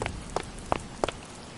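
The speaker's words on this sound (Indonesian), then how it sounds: "Hujan." Rain falls in the Sakura School Simulator video game, heard as a steady patter with a few distinct drop hits spaced through the short stretch.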